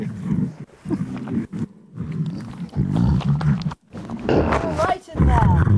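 Lions roar and grunt at close range, producing loud, rough, rumbling calls in several bursts, with a person's voice mixed in among them.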